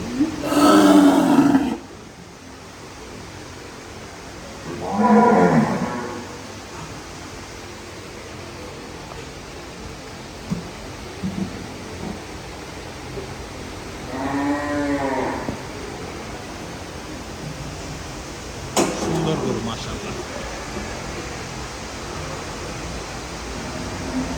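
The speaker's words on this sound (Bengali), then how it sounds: "আরো কিছু গরু দেখাই শাহিওয়াল গরু এগুলো" Sahiwal cattle on a large, clean dairy farm in Bangladesh give several loud, drawn-out moos spread across the stretch, each a few seconds long, over a steady background hum of the barn.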